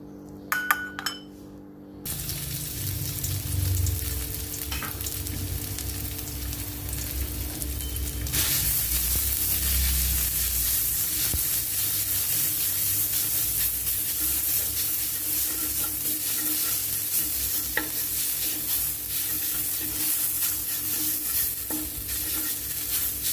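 Pounded garlic and black pepper stir-fried in a little oil for guay jub: a steady sizzle rises and stays loud, with scraping stirs and occasional clinks of utensil on pan, and no voices.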